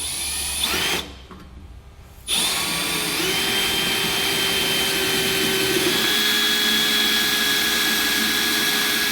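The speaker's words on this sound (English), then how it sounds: "we're going to drill a pilot hole straight through" A power drill whines steadily at high speed drilling a pilot hole through metal, pausing briefly near the start before resuming and running continuously to the end.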